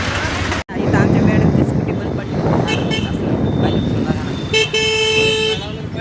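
Dense street traffic rumbles steadily in a busy Indian town, engines droning close by, while a sharp car horn blares loudly near the end of the stretch.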